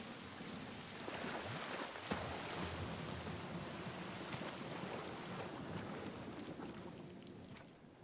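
Steady rain pours throughout The Last of Us Part I, a dense even wash of drops on surfaces with a faint low rumble beneath.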